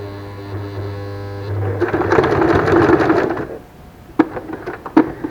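A sewing machine stitches a fabric face mask in a short, loud burst of rapid mechanical chatter following a steady hum, then stops with a few sharp clicks as a backstitch is made.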